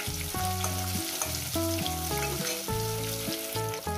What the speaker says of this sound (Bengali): বাদ বাকি মাছগুলো ভেজে নেব।